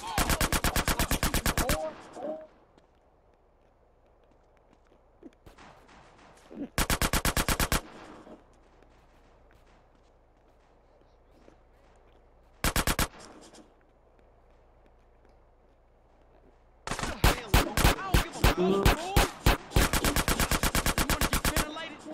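Gunfire in the video game GTA San Andreas, loud rapid bursts of automatic shots: a long volley, two short bursts, then a sustained stuttering barrage, with quiet gaps between.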